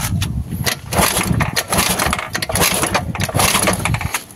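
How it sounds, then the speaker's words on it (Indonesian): A carburetted Honda Vario 110 scooter with lost ignition being cranked and failing to start. Loud, continuous churning starter and engine noise sits close by and never settles into a steady run, with no voices. "Coba tak nyalakan dulu. Apakah ini motor mau menyala?"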